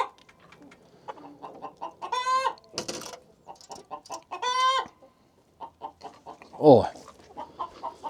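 Hen clucking in a chicken coop, a few loud, close squawking bursts between quieter rhythmic clucks, with a brief spoken word.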